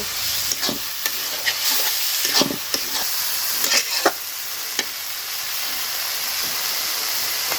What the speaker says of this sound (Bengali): নুন হলুদ দিয়ে মাখিয়ে রাখা চিংড়ি মাছটা মশলায় দিয়ে দিব সুন্দর মতো কষায় নেব